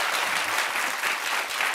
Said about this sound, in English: I feel like we shouldn't be clapping for that.